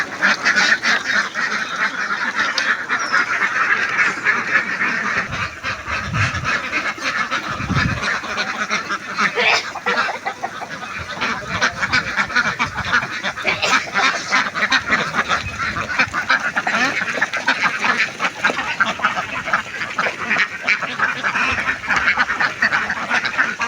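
A flock of ducks quack continuously and loudly as they are let out near an artificial pond set up to keep them cool in hot weather, with dense overlapping calls throughout.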